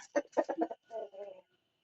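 A rooster clucks in a quick run of short notes, then two drawn-out lower calls, close by and faint, with no voices.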